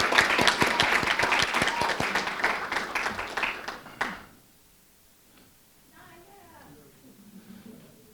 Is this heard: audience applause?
yes